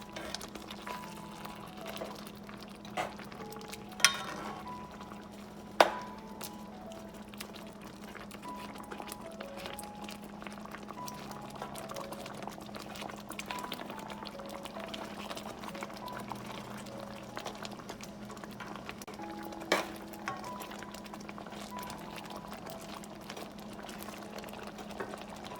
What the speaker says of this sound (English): Going to add some water.